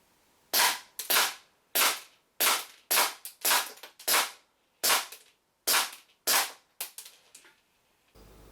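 A WE GP1799 gas blowback airsoft pistol firing 0.2 gram BBs on green gas, about a dozen sharp, loud cracks with snappy slide recoil, shot at a steady, slightly uneven pace close by.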